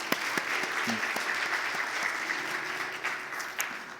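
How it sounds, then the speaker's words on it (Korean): A church congregation applauds in welcome, steady clapping from many people in a worship hall, moderately loud and lasting several seconds. "박수로 한번 환영해 주시면 감사하겠습니다"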